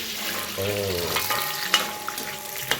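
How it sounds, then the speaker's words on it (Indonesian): Candlenuts, about 100 grams, sauté in a pan with a steady sizzling hiss, a few sharp scrapes and clicks of stirring over the top, and a faint tonal hum in the background. "Nah, kita tumis dulu sambil nunggu dia agak coklat ya."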